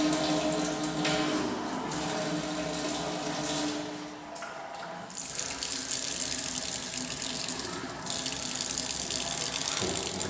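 Hot mineral water from a spring tap at Arshan in Buryatia, a close, continuous splashing gush that swells and dips in strength for about ten seconds.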